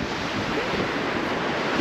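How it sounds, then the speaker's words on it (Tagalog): Steady roar of heavy surf on a rocky shore with broadband wash and wind buffeting the microphone, loud and continuous throughout. "Malakas kasi ang alon."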